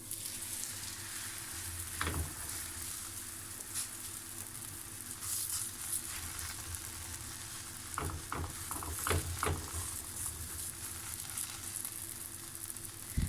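A stuffed cauliflower gobi paratha sizzling steadily on a hot griddle, a constant frying hiss with a few sharp crackles and scraping taps from a utensil partway through.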